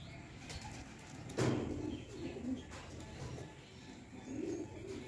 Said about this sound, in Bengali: আর পায়রা জল খেতে যাচ্ছে এখন